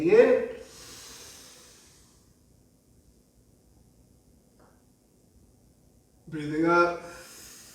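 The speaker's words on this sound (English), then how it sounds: "Breathing in." A quiet inhale during a pelvic-floor breathing exercise: a faint, airy draw of breath that sits between short bursts of spoken instruction at the start and end.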